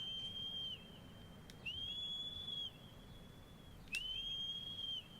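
Someone whistles in Shadow of the Colossus, three long sustained high whistle tones separated by pauses, steady and clear over a low background rumble, with no talking.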